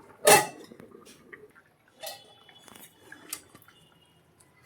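Magur fish curry being stirred in a pan, with a sharp utensil clink up front and then scattered soft scrapes and taps of a spoon against the metal pan, quiet and close.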